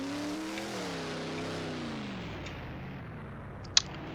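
A modified race car engine in a Roblox dirt-track game at Bristol, droning steadily with rising and falling pitch as it laps, loud and continuous, with a brief sharp knock near the end.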